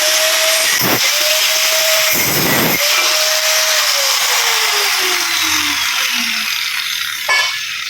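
A handheld power tool cuts through a metal motorcycle exhaust pipe for a CBR, its loud whine starting and stopping in several close bursts, the pitch sagging under load in the longest cut.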